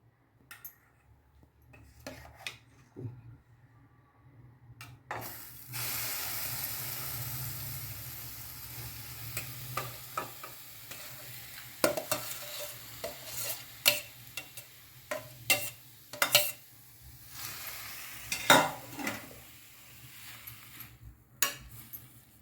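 Cooked Aviyal vegetables are tipped into a kadhai and stirred. After a quiet start come soft frying hiss and scattered scraping clinks of a utensil against the pan, growing busier and more irregular toward the end.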